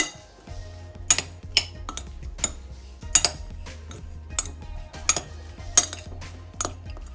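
A utensil mixes ingredients into cheese in a bowl, making repeated sharp clinks and scrapes in an uneven rhythm against the dish; close and moderately loud, with no talking.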